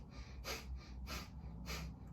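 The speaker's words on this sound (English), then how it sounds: "using the abdomen to force the belly in gets the breath out" Forceful exhalations through the nostrils during a breathing exercise, three rhythmic, evenly spaced breaths out, close and fairly soft, with no talking.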